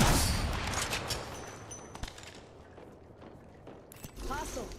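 Gunfire in a shooter video game: a few sharp, isolated shots stand out against a dense, noisy battle background, fairly close.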